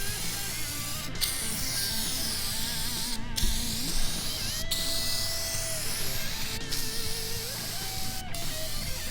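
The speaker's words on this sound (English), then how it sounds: "it's a good idea to put some fluid film in there and prevent it from happening" A continuous hissing spray of Fluid Film rust-protection fluid onto a snowblower runs close by for the whole stretch, with faint squeaks and short clicks breaking in every second or so.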